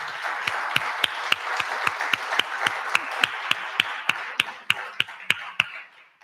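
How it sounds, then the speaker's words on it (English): An audience applauds a local business panel, with soft crowd clapping under a steady series of sharp, evenly spaced claps close by, fading out after about six seconds. "Let's give them a round of applause for all what they do for us"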